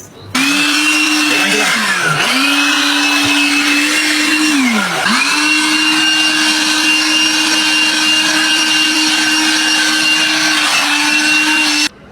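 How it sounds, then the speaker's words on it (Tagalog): A Rheem cordless blower vacuum whirs at close range, its motor whine dipping and surging as it changes load, then holding a steady high drone before cutting off at the end. "ang kagandahan nitong multi-purpose na blower from Rheem"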